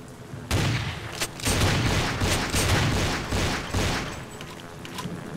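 Gunfire in the Vampire the Masquerade Bloodlines game rings out as a series of loud, sharp shots, several distinct cracks spaced irregularly over a few seconds, with reverberant booming tails between them.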